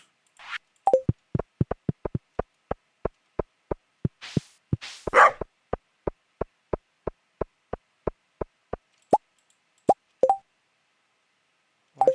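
Petting the dog in the farming game Stardew Valley produces a steady series of short, evenly spaced pops and plops, with a few brighter chimes and squeaky yips mixed in, all clear and isolated with no talking.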